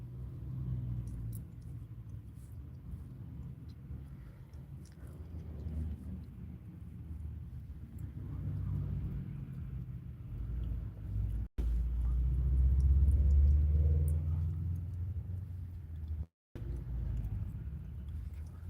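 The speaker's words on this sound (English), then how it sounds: "Just gotta wait for the traffic to pass." Road traffic passes a parked car on a local street, a low rumbling wash that swells and fades, with the loudest pass arriving in the second half.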